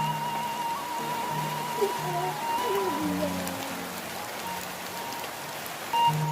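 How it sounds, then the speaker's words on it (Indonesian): Steady rain falls as a constant, dense hiss, with faint tonal sounds and muffled voices mixed in underneath. "Oh, nya hujan."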